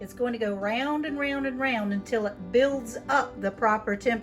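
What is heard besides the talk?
No distinct noise like a dog, phone or traffic.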